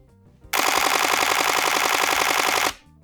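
Nikon D5 shutter firing a rapid 12 frames-per-second burst for about two seconds, a dense machine-gun-like rattle of clicks, close and loud, stopping abruptly, with no talking.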